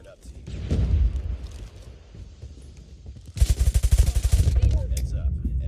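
A Type 19 rifle fires in Call of Duty Mobile, a rapid burst of close, loud shots after quieter game sounds, with a player talking over it.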